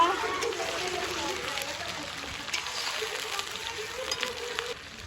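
Garlic paste hits a hot pan with an outdoor feast cooking nearby, giving a soft steady sizzle and crackle under a voice, faint and continuous throughout.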